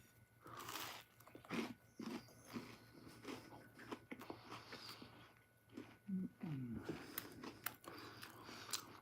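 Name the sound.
biting and chewing a crunchy cookie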